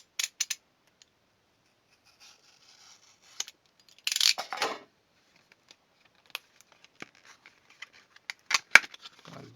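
Scissors cut open the plastic packaging of a computer memory module during a PC upgrade, producing scattered close snips, crinkles and scrapes with quiet gaps between them.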